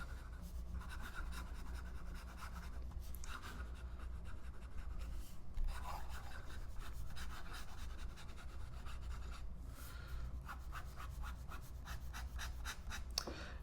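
Quick scratchy strokes of a Lamy Persona fountain pen nib writing fast on paper, close and faint, a continuous run of short rasping scratches with brief pauses between words.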